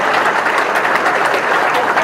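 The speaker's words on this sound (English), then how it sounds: "let's give all the students a nice round of applause for all their awards tonight" Audience clapping at a high school senior awards night, a loud, dense, continuous round of applause from a large crowd.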